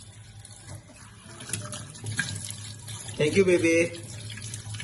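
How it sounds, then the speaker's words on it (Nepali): Dishes get washed under a running kitchen tap by a young girl learning the chore: water streams and splashes steadily while an adult voice talks warmly over it, with a louder gush and clatter near the end. "आजलाई सबै भाँडा धुइदिनु भयो"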